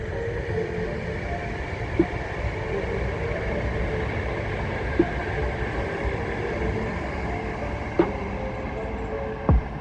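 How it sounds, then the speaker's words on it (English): A train rumbles steadily close by, its low drone broken by occasional sharp clacks of wheels crossing rail joints. "There's a train coming now, so you probably won't hear me."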